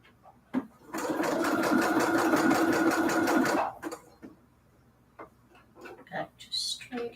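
A sewing machine running a zigzag stitch on a junk journal project, one steady mechanical whirr lasting about three seconds, followed by quieter handling clicks and taps.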